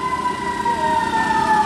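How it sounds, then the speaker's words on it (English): Emergency sirens wail steadily nearby at a street sermon, loud and continuous with a fire-truck-like tone and no voices over them. "Keep them sirens going every time the word come out."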